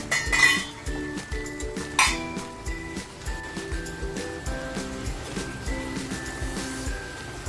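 A metal lid comes off a pot of chana palak sabzi on the stove, giving a couple of sharp clinks and clatters over a soft, steady sizzle, with quieter scattered utensil taps afterward.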